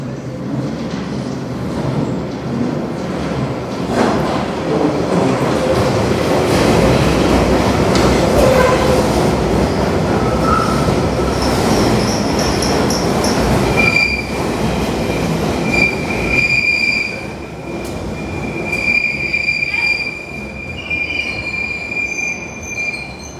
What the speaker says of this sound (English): I'll be taking this train to Paddington via Baker Street.